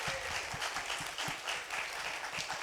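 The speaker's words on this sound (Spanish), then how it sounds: "Por favor, un aplauso." A crowd applauding steadily, a dense wash of clapping that holds at an even level throughout.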